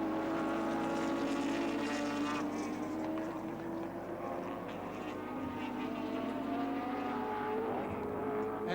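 Nissan touring car engines race at Oran Park in 1983, a sustained high-revving drone with several overlapping engine notes shifting in pitch, heard from a distance and without voices.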